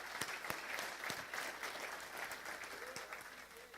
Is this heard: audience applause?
yes